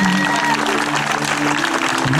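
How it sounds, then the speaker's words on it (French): A church congregation at a healing mission service in Côte d'Ivoire applauds God loudly, a dense, steady wash of clapping sustained throughout with a faint voice and crowd murmur beneath. "Acclame Dieu très fort là-dessus."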